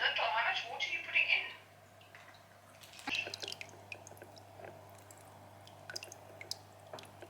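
Water pours into a newly set-up home fish tank in a short, splashy rush near the start, then settles into quiet, sparse drips and small liquid sounds at a low level.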